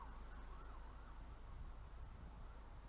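A siren wailing outdoors, faint and distant, its rising and falling tone drifting over a steady low hum of background noise.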